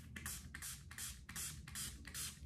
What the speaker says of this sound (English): The last thing I'm going to go in with is my makeup setting spray. And I'm just going to put some on my sponge.